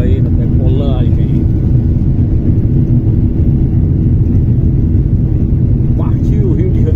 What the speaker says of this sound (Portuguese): Lá vamos nós aí na decolagem.